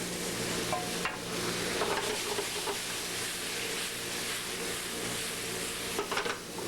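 Pasta and vegetables sizzle and hiss as they stir fry in a hot pan, a steady close frying crackle with occasional scraping and stirring clatters.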